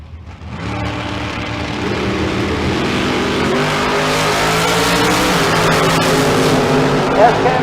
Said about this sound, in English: Here comes Chris Johnson trying to track him down